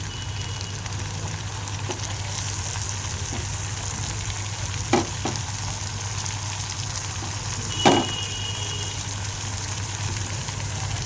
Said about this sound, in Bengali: অর্ধেক সিদ্ধ হয়ে গেছে আলু আর গাজরগুলো, ওর মধ্যে আমি টমেটোগুলো দিয়ে দেবো